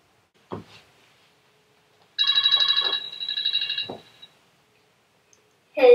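A telephone rings in a comedy skit: one steady, bright electronic ring of about two seconds, clear and close, with short bumps and a voice starting before and after.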